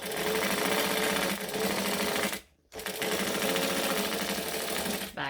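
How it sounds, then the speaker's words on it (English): Sewing machine stitching a fabric bag: a loud, fast, continuous mechanical whir that stops briefly and then resumes for a back stitch. "I'm going to start here, stitch, back stitch."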